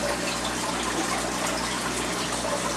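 Steady broadband rush of water flowing through a homemade DIY aquarium sump overflow on a cichlid tank setup, continuous and fairly close with no break.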